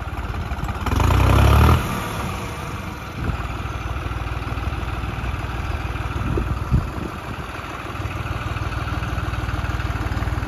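A tractor engine runs steadily nearby with a low, continuous chugging rumble, briefly swelling louder early on and carrying a few knocks and thumps, with no talking.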